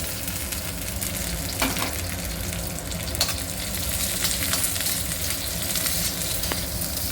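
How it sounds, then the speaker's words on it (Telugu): Chopped onions and curry leaves sizzle steadily in hot oil for a Telangana aloo dish, a continuous dense crackle with occasional sharper pops and stirring scrapes, close and without talk. "కొంచెం ఆనియన్ ఫ్రై కావాలండి."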